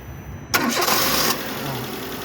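A 2010 Citroën car with a faulty starter motor cranks and catches: a sudden loud burst of engine noise, about a second of starting roar, then settling into a steady idle close by, with no talk.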